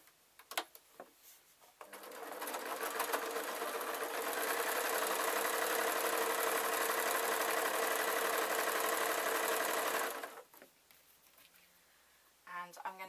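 A sewing machine runs steadily for about eight seconds, stitching a decorative row on a rag doll; its dense whirring starts after a brief pause and stops abruptly, with quiet handling noises before and after.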